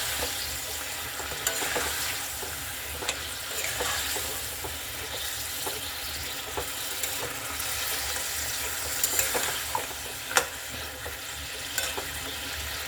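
Marinated mutton for biryani sizzles and fries in a pot while being stirred, a constant close crackle broken by scattered scraping knocks of the spoon, with no voices.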